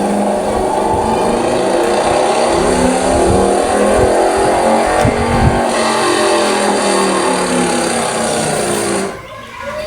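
A motorbike engine runs close and loud with a steady buzzing drone and a few throttle surges, then cuts off abruptly near the end.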